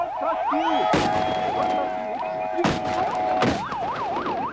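A wailing ambulance siren sweeping up and down nearby as it carries away the injured during a clash with thrown stones, broken by several loud bangs and thuds.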